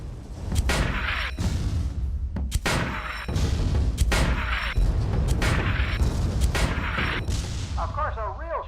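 Mortar fire in the airship game Guns of Icarus Alliance: repeated heavy booms land roughly every second over a constant rumbling engine drone, with a warbling tone near the end. Loud and close.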